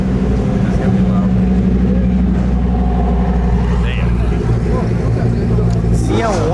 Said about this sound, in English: That's definitely the Lambo. That's gonna be loud.